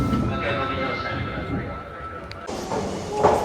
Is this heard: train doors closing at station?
yes